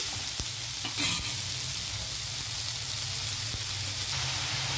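Onions fry in hot oil with a dense, continuous sizzle close by, broken by a few sharp stirring knocks and scrapes. No one speaks.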